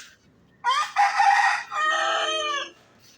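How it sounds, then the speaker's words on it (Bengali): A rooster crows at a rural village home beside a mud-walled granary. The single loud, close cock-a-doodle-doo rises, holds and trails off, with no talk and only quiet background around it. "এই মুরগি"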